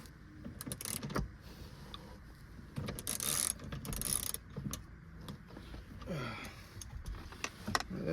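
Ratchet tightening a seatbelt bolt inside a 2006 Toyota 4Runner: quiet, irregular clicking of the pawl mixed with rustling and handling noises.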